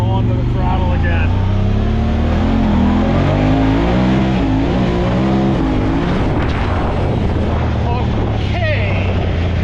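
A Honda Talon X side-by-side on Tusk Megabite 30-inch tires revs hard under throttle, a loud continuous engine roar with stepped rising pitch across gear shifts, with voices underneath throughout.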